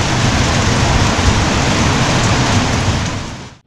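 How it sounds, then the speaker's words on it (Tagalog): Heavy rain pours down steadily in Baguio, a dense, loud hiss filling the whole stretch before cutting off abruptly at the end. "Grabe yung ulan yan talaga."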